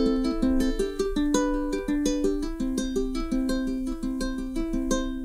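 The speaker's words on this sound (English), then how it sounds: "But you can apply that Travis picking pattern to it and it sounds like this." Ukulele fingerpicked in a Travis picking pattern, playing a song: a steady alternating pluck of bright, ringing notes over a bouncing low thumb line, close and clear with no voices.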